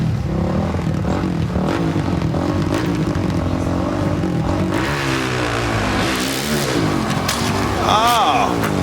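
At a 2015 X Games Step Up motocross event, a carbureted dirt bike engine drones and then revs hard with a rising whine near the end, over crowd and arena noise.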